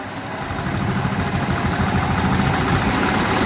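Wood lathe turning a blank at about 1100 RPM, a steady, continuous low rumbling hum with an even drone throughout, fairly loud and close, no voices.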